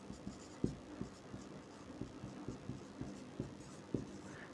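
Chalk or marker strokes on a classroom board during a science lesson, a quiet series of short taps and scrapes coming at an irregular rhythm, close by, with no talking.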